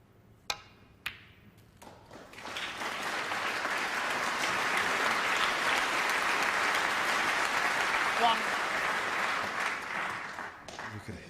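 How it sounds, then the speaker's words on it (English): Applause from the crowd at a snooker match, a 2007 UK Championship semi-final, rising after a few sharp ball clicks into sustained steady clapping that fades slightly near the end. "You could hear the applause building there, not only for the pot, but when the scene where the white was going to finish."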